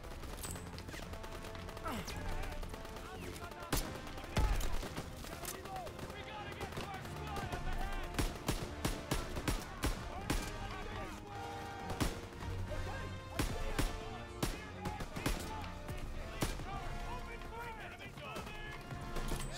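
Dense gunfire in a Call of Duty WW2 battle: rapid sharp shots and bursts repeat throughout amid chaotic combat noise, with voices mixed in.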